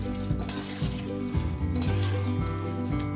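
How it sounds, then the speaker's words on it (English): Fried potatoes tossed and stirred into a sizzling chilli honey sauce in a pan, a loud continuous sizzle with scraping and clinking of the utensil against the pan, no voices. "Now after a few minutes, just dump in the fried potatoes into the sauce."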